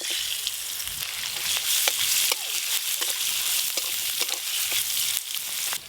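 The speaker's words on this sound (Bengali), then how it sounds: "টক রান্নার জন্য 5 ফোড়ন ফোড়নে দেব।" Five-spice seeds and mango kasundi sizzle and crackle in hot oil for a sour fish dish, a dense, steady frying hiss with scattered sharp pops and occasional stirring scrapes, close and continuous throughout.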